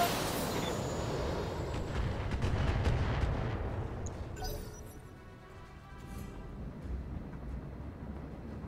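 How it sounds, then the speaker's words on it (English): Long-range missiles fired by a mech in the turn-based mecha game Battletech, a dense rumbling salvo of launches and blasts that builds over the first seconds, then trails off into lighter, scattered crackles. "You should walk and hit that guy with the long-range missiles."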